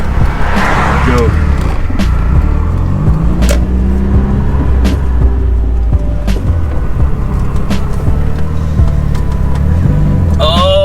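Nissan R32 GTR rolling into an entrance, a loud low engine drone close up and steady throughout, with a person talking over it.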